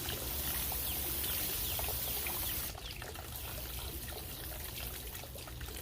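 A garden hose sprays water at full blast onto very dry flowerbed soil, giving a steady, loud rushing hiss that runs unbroken throughout and dips slightly in level partway through.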